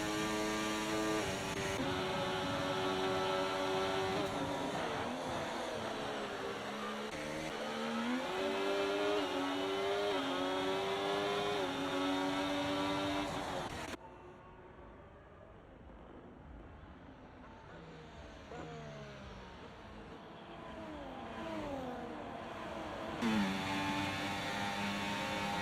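Engines of F1 cars whine and rise through gears as they battle closely in a racing video game, with pitch sweeps overlapping, a brief quieter stretch midway, then more revving.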